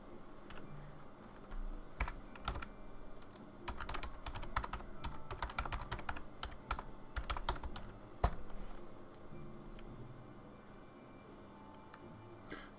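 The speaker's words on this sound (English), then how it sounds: "But if I type in AP," Keys clatter on a computer keyboard in irregular bursts of quick taps separated by pauses, close and fairly soft in a quiet room, with one louder keystroke near the end.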